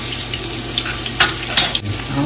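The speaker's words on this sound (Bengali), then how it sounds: "ঘানি সর্ষের তেলে বানানো হচ্ছে, একদম কাচ্চি ঘানি সর্ষের তেলের মধ্যে পেঁয়াজ যাচ্ছে" Chopped onions sizzle loudly in kachchi ghani mustard oil, a close, steady frying hiss with light stirring scrapes.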